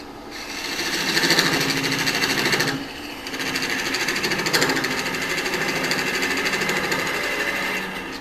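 Mesquite wood spinning on a wood lathe, a steady dense whirring buzz with a short dip in the middle before the machine runs on at full speed.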